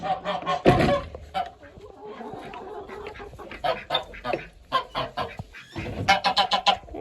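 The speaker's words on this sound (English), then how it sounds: "let's give some to the chickens" Chickens cluck and squawk close by in a busy, overlapping flurry, with a few louder calls rising over the steady murmur of the flock.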